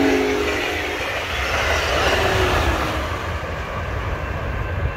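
A high-speed Amtrak passenger train at about 98 mph passes through snow in Lawton, Michigan, giving a loud, continuous rushing roar with rail clatter that holds strong and then slowly eases, with no voices.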